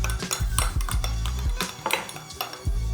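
Butter and milk mixture being combined in a bowl for sponge cupcakes, with repeated clinks and scrapes of a utensil against the bowl, close and fairly loud in an uneven rhythm.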